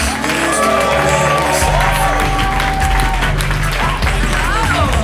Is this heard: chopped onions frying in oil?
no